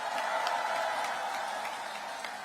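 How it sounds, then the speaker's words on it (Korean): A crowd at an outdoor political campaign rally in Paju applauds with a steady wash of clapping, a little distant and fairly soft, with no talking over it. "박수 한번 쳐주세요."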